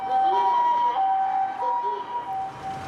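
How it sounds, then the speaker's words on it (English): An ambulance siren wails in Japan, alternating high and low tones at a distance. It is faint and fades slightly toward the end, with no speech over it. "ambulance."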